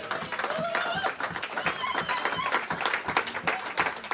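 A church congregation applauding, a continuous patter of clapping mixed with voices and cheering throughout.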